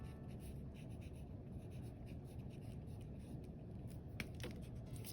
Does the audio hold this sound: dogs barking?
no